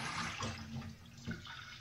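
Tap water running in a kitchen sink while carrots are washed for a beef broth soup, a steady splashing rush at low level, close by and without speech.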